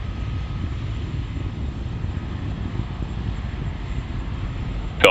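A SpaceX Falcon 9 rocket climbing away after launch from Space Launch Complex 4 East in California, throttled down ahead of max Q, heard as a steady, distant low roar with a sharp brief burst at the very end.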